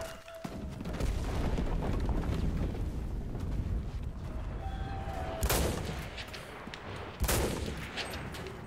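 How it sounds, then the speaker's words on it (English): Gunfire and explosions in the video game Enlisted, a dense battlefield din of shots and booms with two loud sharp bursts standing out near the end. "Oh, getting shot at."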